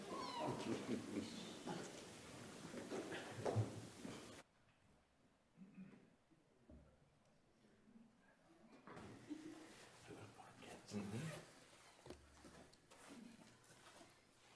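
At a city council meeting in Yucaipa, a cat meows in short, faint cries, heard among room noise, shuffling and a few muffled voices in the hall.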